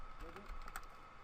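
A short burst of typing on a computer keyboard during a 3D modeling session, a few quick soft key taps close by over a faint background hum.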